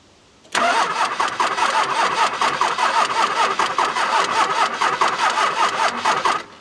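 A Dodge truck engine cranks and catches after a short quiet lead-in, then runs with a loud, rapid, rough rhythmic chugging that stays close and steady to the end.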